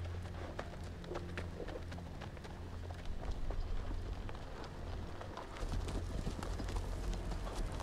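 Horses in a video game trot with a steady, dense clip-clop of hooves, several animals moving together, continuous and fairly loud with no talking over it.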